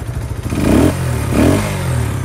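A 1984 Honda XL125S dual-sport motorcycle with a single-cylinder engine idles and then revs up twice in quick succession. It is close, loud and steady, and no voices are heard.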